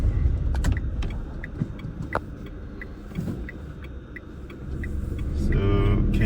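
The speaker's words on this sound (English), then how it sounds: "let's push it a bit. Let's see how fast it can go" A Renault Kwid compact car engine rumbles low inside the cabin, then builds as the driver pushes it harder, with a rising strained tone toward the end and faint mechanical ticks over the drone.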